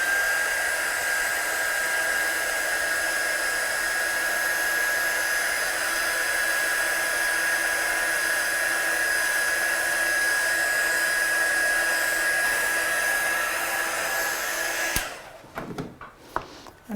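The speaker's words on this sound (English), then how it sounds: "Just dry that." Hair dryer blowing over watercolour Christmas stamping, a steady, close whooshing hum with a high whine that runs for about fifteen seconds, then cuts off, followed by a few soft handling knocks.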